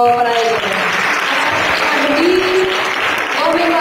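An audience at a family reading course closing ceremony claps steadily and densely throughout, with voices speaking over the applause.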